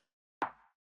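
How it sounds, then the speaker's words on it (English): A single soft, short rim shot from a chill drum sample pack, quiet and dry with a quick decay, standing alone in silence. "that's the rim shot"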